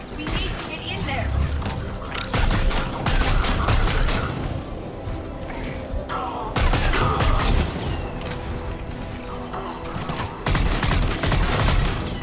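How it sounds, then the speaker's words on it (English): Dense video-game gunfire at a checkpoint in Mass Effect 3, loud bursts and crashes layered with mechanical clatter and booms, continuous through the clip with voices speaking over the combat. "They're taking fire!"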